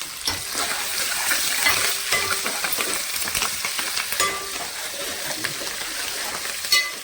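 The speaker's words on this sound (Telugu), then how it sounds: "ఇప్పుడు వచ్చేసి పచ్చిమిరపకాయలు వేద్దాం పచ్చిమిరపకాయలు కొద్దిగా వేగినాయి" Steady crackling sizzle of green chillies frying in hot oil, with occasional sharper pops and spatters, fairly close and continuous throughout.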